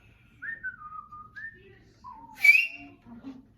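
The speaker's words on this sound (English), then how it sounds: "could you give us one quick, really good whistle?" A person whistles a short series of sliding, bird-like notes, with a brief breathy burst in the middle and a few low warbles at the end, clear and alone.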